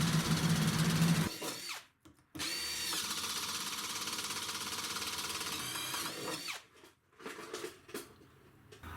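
An AEG Stealth Drive 18V brushless oil pulse driver drills with a steady, fairly quiet whirring hum for several seconds, stopping briefly and restarting, then ending in shorter bursts; no voices.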